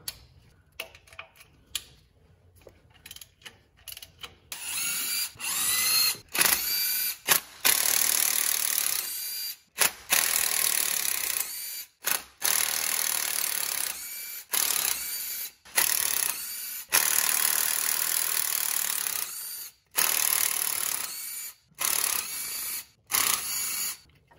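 A ratchet wrench undoing 10 mm bolts on a 2002 Honda Accord transmission: quick bursts of metallic clicking separated by short pauses, close and fairly loud, repeating throughout.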